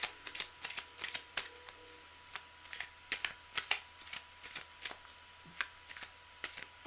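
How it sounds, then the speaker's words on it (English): A deck of tarot cards being shuffled by hand at close range, a run of crisp riffling flutters and soft slaps in irregular bursts, with no talking. "the cards are well shuffled"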